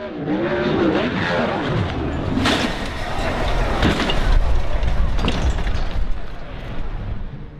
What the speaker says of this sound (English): Another wreck in 2014 involved the Finland native Markus Niemela while qualifying for the 360 Oval Nationals